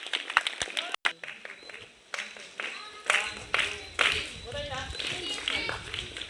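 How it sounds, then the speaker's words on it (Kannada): Audience clapping at a school quiz programme after a correct answer, bursts of applause rising and falling in quick uneven waves, fairly close and moderately loud. "ಜೋರಾದ ಚಪ್ಪಾಳೆ ಬರಲಿ."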